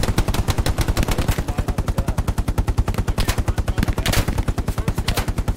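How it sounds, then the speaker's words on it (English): Machine gun fire from the World War II video game Hell Let Loose pounds in one long, continuous, evenly paced automatic burst, loud and close throughout. "There's MG fire to the 213."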